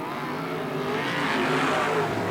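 Race cars roar continuously around Riverside Speedway in 1990, a loud sustained engine drone that swells slightly as the pack passes, no voices heard.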